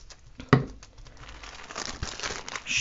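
Baking paper bags crinkle and rustle as they are laid one on top of another for a large paper star, with a sharp crackle near the start and then soft, continuous crumpling.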